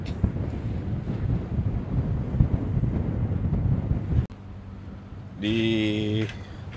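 Strong southeasterly wind buffets the microphone over the churn of sea waves at an anchorage for several seconds, then cuts off abruptly.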